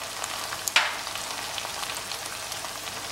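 Spice paste frying in a pan for chicken curry, a steady close sizzle with a brief scrape of stirring, no talk over it.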